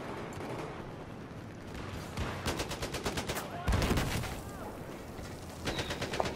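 Rapid automatic gunfire in the video game Battlefield 4, bursts of quick repeated shots over a busy game background, with a heavier blast midway and a voice speaking now and then.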